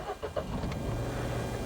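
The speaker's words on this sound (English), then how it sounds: "as soon as I start up the car," A Kia Picanto with about 100,000 km on it starts up: a brief cranking whir, then the engine catches and settles into a steady low idle, fairly close.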